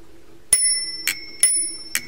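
A Czechoslovak Tesla telephone bell strikes four times in quick, uneven succession, each ring bright and metallic with a lingering tone, close and fairly loud over a faint low hum.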